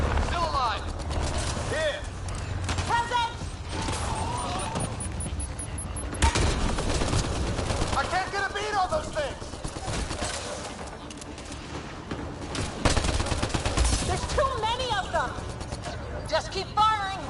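Sci-fi gunfire rattles through a firefight in the game Mass Effect Andromeda, bursts of shots recurring across the scene while voices call out and talk over the shooting.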